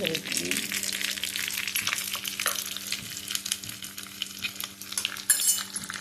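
Garlic and curry leaves crackle and sizzle in hot oil close by, with a burst of popping at the start and steady spattering under occasional stirring.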